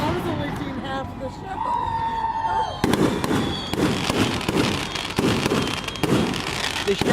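Fireworks shells bursting overhead at a town display in Delaware City, including 3-inch shells, with repeated loud booms and crackling in irregular succession; people talk faintly near the start.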